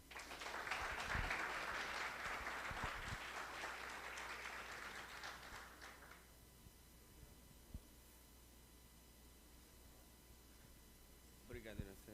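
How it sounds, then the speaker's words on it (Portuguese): An audience applauds to welcome a speaker at a talk on hiking trails, the clapping full and sustained for about six seconds before fading into room hum, with a few faint claps returning near the end. "Então vamos receber com uma salva de palmas aqui o nosso palestrante, Pedro da Cunha Menezes."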